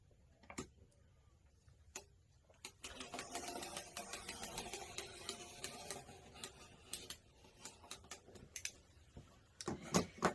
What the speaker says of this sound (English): I have my circle cutter here. Nothing super special. It's by Olfa. I'm doing a 6-inch circle.